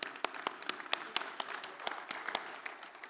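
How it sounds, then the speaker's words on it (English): Conference attendees at the Esri Saudi Arabia User Conference give scattered applause for award winners, distinct individual claps ringing out unevenly at moderate volume in a large hall. "So one final round of applause for all the award winners."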